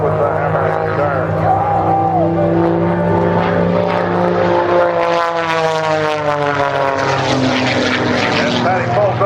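A propeller-driven aerobatic airplane with a 540 engine performs at an air show, its engine roaring loud and close, the pitch rising and falling through a vertical climb while an announcer speaks over it.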